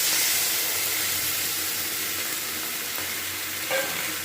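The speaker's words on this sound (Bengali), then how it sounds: "এবার যে দুধটা রেখেছিলাম দুধটা আমি এর মধ্যে দিয়ে দিচ্ছি" Sizzling shukto vegetables in a pan as milk goes in, a dense hissing fry that is loudest at first and eases slightly, with a faint clink late on, near and unvoiced.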